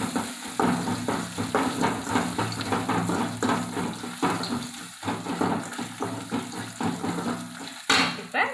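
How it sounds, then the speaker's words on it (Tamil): Crushed garlic sautéing in oil in a pan for coconut milk rasam, giving a steady, close sizzle with scattered small stirring clicks and no talking. "இப்போ இது கூட நம்ம இந்த இடித்து வச்சுருக்க பூண்டை வந்து நம்ம இது கூட சேர்த்துக்கலாம். பூண்டு சேர்த்து வதக்கினாலே ஒரு வாசம் வரும் நல்லா."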